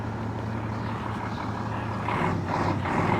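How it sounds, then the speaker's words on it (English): A heavy vehicle rumbles past with a steady low engine drone that swells louder toward the end, moderately distant, with no voices. "There's a noisy bus."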